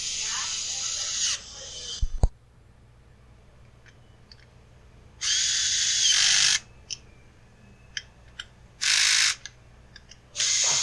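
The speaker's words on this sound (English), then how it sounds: "this is some real excitement watching me turn these screws in" Screws being driven into a Husqvarna 550XP Mark II chainsaw during an oil pump repair: bursts of a close, whirring power driver separated by quiet gaps, with scattered small clicks and one sharp clack.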